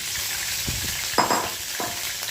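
Mustard oil heating in a pan gives a steady, close hiss of sizzling with a few brief crackling pops, no talk over it.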